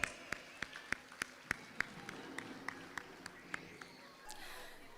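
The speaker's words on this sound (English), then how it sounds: "a huge round of applause for our KG coordinator" Sparse, evenly spaced hand claps sound faintly in a hall at a kindergarten graduation ceremony. It sounds like only a few people are clapping in a steady rhythm, and it tapers off near the end.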